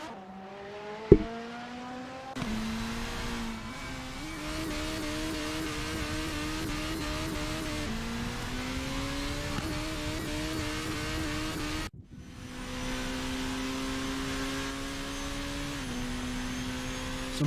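Racing cars in a video game of the French Grand Prix circuit drone steadily under a safety car period, engines whining and shifting pitch with small gear-change steps, one loud continuous car close up with others blending in.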